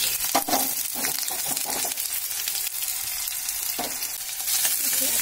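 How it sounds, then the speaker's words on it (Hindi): Finely chopped onion fries with garlic in a pan for a Uttarakhandi bhatt ki chudkani, a dense steady sizzle with occasional stirring scrapes, close and loud. "इसे अच्छे से हिला लेती हूँ जब तक थोड़ा सा प्याज ब्राउन कलर का हो जाएगा"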